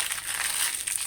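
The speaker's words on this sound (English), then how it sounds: "plastic packaging, so it's really thin, and I just crumple this" Thin plastic packaging crinkles and crackles as it is crushed by hand, a soft continuous rustle up close.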